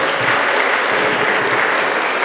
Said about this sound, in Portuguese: dê um aplauso bem forte aí para o Senhor